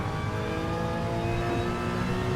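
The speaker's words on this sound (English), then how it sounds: "let's go for a lap of Dragon Trail on board with me in the Porsche GT4" A Porsche GT4 engine drones steadily and loudly in GT Sport, heard from on board during a lap of Dragon Trail, with a continuous mid-pitched note and no voices.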